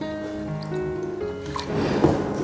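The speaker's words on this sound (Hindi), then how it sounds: "अब इसमें हम 200 ml पानी भी मिलाएंगे।" Water is poured into homemade rice-water liquid fertilizer, a soft, steady trickle that grows into a louder splashing gurgle near the end, close and clear without talk.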